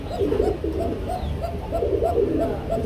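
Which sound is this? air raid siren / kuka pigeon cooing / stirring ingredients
kuka pigeon cooing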